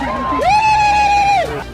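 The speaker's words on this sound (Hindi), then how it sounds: "छात्राओं और स्टाफ ने चिल्लाकर भालू को हॉस्टल परिसर से भगाया।" Students and staff at a girls' hostel in Srinagar shouting loudly to drive away a bear, a sustained high yell rising over crowd commotion, close and loud.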